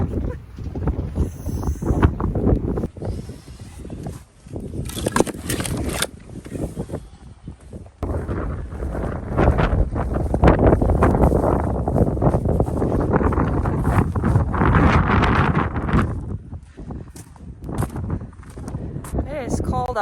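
Bitter cold wind blowing around a barn, loud gusty buffeting rumble across the microphone, rising and falling throughout with brief lulls, some talk mixed in.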